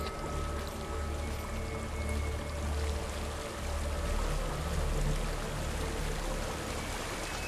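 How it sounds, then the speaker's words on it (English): A waterfall in Hellblade: Senua's Sacrifice rushes steadily as a broad, constant roar of falling water, even and unbroken throughout. "There's a waterfall."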